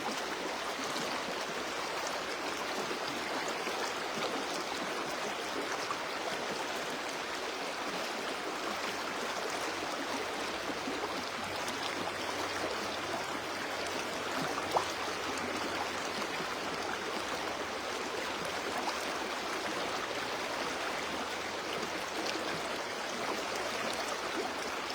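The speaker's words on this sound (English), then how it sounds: "enjoy the quality of the sound of cascading waters that you can hear, the beautiful river of life that you can hear with your ears" Cascading river water rushes in a steady, even wash of broadband noise that carries on unbroken, with no voices.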